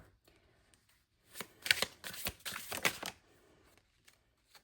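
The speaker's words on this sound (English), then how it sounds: "Let's put some palmistry" A deck of palmistry cards is shuffled up close in one quick riffling burst of papery flutters lasting a couple of seconds, with quiet moments before and after.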